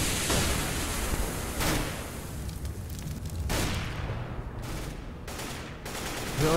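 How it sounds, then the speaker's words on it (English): Flashbang grenade in a competitive shooter video game, heard amid dense bursts of gunfire and sharp booming blasts throughout, with a few distinct loud hits and very little talk. "Throwing flashbang!"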